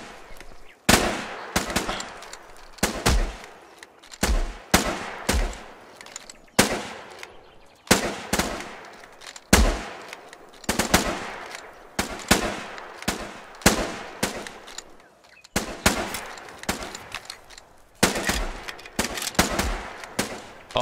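Machine gun fire in the war game Foxhole crackles in repeated bursts of rapid shots, loud and sharp, with short pauses between volleys over about twenty seconds and no talk.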